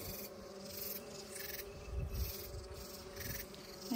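Honeybees hum faintly around an opened top-bar hive with cross-combed frames, a low, soft, wavering buzz without any talking.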